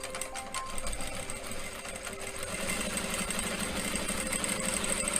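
A sewing machine stitches a princess-cut blouse, its motor running in a steady, close-up whir that grows louder and busier about halfway through, with no voices.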